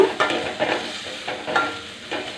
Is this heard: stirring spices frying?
yes